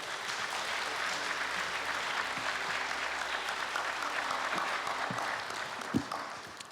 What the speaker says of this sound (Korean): 박수로 맞아주십시오.